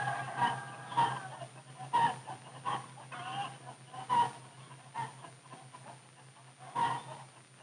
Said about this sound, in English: The big rooster crows right in Tuffy's face.